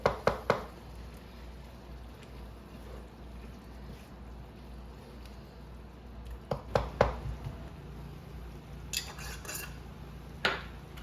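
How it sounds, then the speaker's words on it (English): Tomatoes mashed in a pot with a utensil, heard as a few sharp clanks and scrapes at the start and again midway, with softer knocks later, against a quiet background. "I'm just trying to mash the tomatoes so they kind of break down easier and faster"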